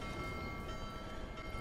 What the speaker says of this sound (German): Ach, scheiße, ich muss den Zug besteigen.